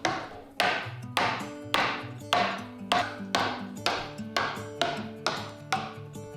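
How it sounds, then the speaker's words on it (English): Sharp, regular knocks of a chisel being struck into timber, about ten evenly spaced hits over a soft musical backing. "So next I tried chopping away the waste using just a chisel."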